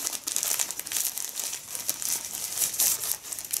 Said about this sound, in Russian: Пакетик овечка. Сейчас мы его развяжем.